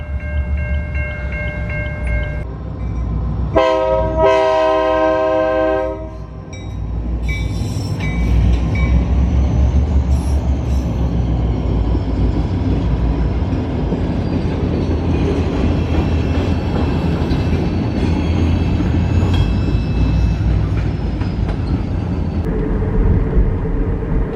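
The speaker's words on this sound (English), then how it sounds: "There's a train a-coming." A loud train rumbles past close by, a horn blaring briefly early on, followed by a long, steady roar of rolling wheels.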